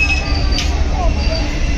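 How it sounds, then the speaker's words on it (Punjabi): A passenger train sits at a railway station platform with a steady, loud low rumble and hum throughout, a few faint high squeals and clanks over the constant drone. "ਆਪਣੀ ਟ੍ਰੇਨ ਆ ਚੁੱਕੀ ਹੈਗੀ"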